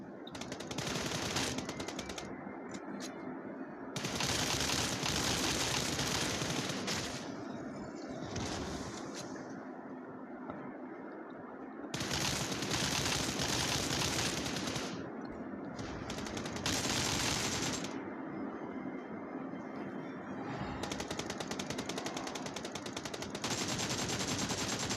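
Rapid video game gunfire crackles almost continuously for about twenty-five seconds, with repeated bursts of sharp automatic shots that swell and ease over a constant busy background.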